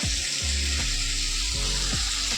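Ridge gourd and potato pieces fry in a pan with a loud, dense sizzle, broken by several low thumps, likely stirring against the pan, in quick succession, with no speech.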